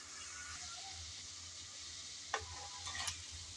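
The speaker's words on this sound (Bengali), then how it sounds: "দিয়ে দিলাম আলুগুলো। আলু দিয়ে নেড়ে চেড়ে একটু ভালোভাবে কষিয়ে নেব।" Pre-fried potatoes stirred into a frying spice masala with softened dried fish, a faint low sizzle under a quiet room hum, with a couple of sharp utensil scrapes near the end.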